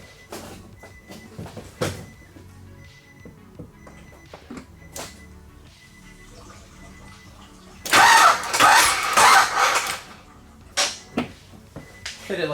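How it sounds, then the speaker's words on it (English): A Corvette engine's starter is bumped several times during a supercharged head swap, giving short bursts of whirring cranking, with a louder cranking stretch in the middle and clunks between, close up. "Let's bump the starter."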